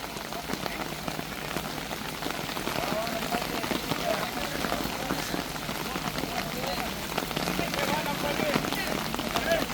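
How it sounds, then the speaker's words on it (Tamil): Heavy rain pours steadily onto surfaces outdoors during work on a 110-foot Indian Army bridge, a dense continuous hiss and patter that holds an even level throughout, with a voice talking under it. "வந்த மழை போகுது பாருங்க, திருப்பி வந்துட்டோம்."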